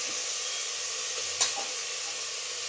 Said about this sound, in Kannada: ಶುಂಠಿ ಬೆಳ್ಳುಳ್ಳಿ ಪೇಸ್ಟ್ ಚೆನ್ನಾಗಿ ಫ್ರೈ ಮಾಡ್ಕೊಂಬಿಡೋಣ ತುಪ್ಪದಲ್ಲಿ